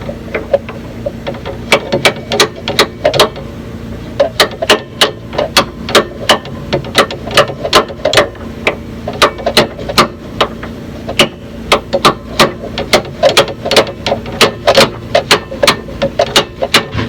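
Rapid repeated metal strikes from a big ball peen hammer in a garage, working on a Panhard bar on a 1984 Wanderlodge PT, loud and close in uneven bursts with steady clanking throughout.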